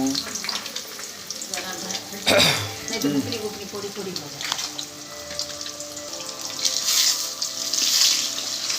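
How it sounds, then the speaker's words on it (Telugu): Eggs frying in a pan for chicken fried rice give a steady sizzle, with a sharper clatter near the start and a brighter hiss toward the end. "ఇలా ఎగ్స్ వేసిన తర్వాత ఒక 2-3 సెకండ్స్ ఆగిన తర్వాత కలపాలి."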